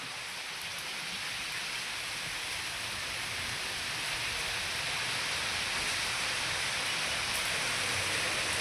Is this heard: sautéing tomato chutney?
no